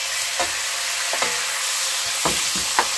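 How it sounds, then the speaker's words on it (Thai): Chicken and garlic frying in a pan with margarine give a steady sizzle, broken by a few soft scrapes of stirring. The sound is close and has no talking. "กระเทียมหอมแล้วใส่ไก่ค่ะชิกิ่ง"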